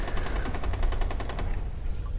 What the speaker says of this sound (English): Wow, you got an LMG.